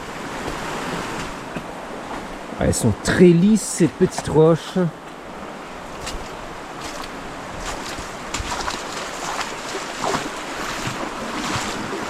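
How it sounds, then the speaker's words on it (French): A river flowing through a steep-walled gorge past smooth stones, a constant rushing wash mixed with wind buffeting the microphone, while someone talks briefly. "la rivière qui coule"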